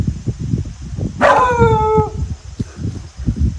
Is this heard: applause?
no